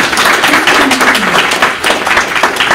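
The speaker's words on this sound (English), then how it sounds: "So can everybody just give Joseph a round of applause?" Audience at a grand opening event in Seattle applauds steadily for a guest, a dense wash of many hands clapping at once that stays loud and even throughout with no voices standing out.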